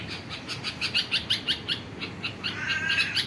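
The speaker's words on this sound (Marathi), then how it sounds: "बघा कशी चिंची करते" A bulbul chirps repeatedly near its nest, a quick series of bright, close tweets in an uneven rhythm, with faint background hiss.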